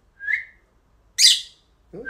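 A conure parrot whistles twice in quick bright notes, a short tone and then a higher sweeping call, followed by a brief low rustle.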